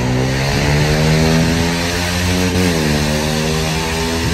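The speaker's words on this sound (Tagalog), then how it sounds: "Grabe naman yung motor na yun." A motorcycle engine roars close by along the Manila Baywalk seawall, a loud steady drone whose pitch dips midway as it passes.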